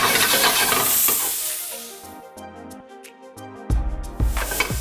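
Jackfruit hits a hot pan and sizzles loudly, the hiss dropping briefly while it is stirred and then flaring back up with scraping and spitting near the end.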